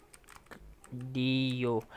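Keys tapped on a computer keyboard while entering a Linux command, a few light clicks near the start, then a long sustained tone cuts in over them.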